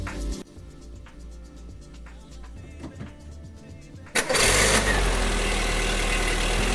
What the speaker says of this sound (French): on remonte le cache culbuteur et on démarre la bagnole pour voir si le bruit a changé